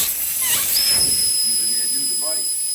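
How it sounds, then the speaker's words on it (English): Air hissing out of a tire valve stem on a 2021 Mustang Mach 1 with the valve core removed: a steady high whistling hiss with a piercing tone runs throughout, while someone speaks briefly over it. "We'll just let the air out of the old 21 Mach 1"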